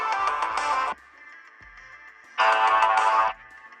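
Tones from a Blackview Oscal C60 smartphone speaker that swell loud in two bursts and drop to a dull, muffled level when the speaker is pressed, alternating clear and damped.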